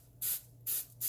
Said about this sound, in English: we're going to spray them real lightly on the top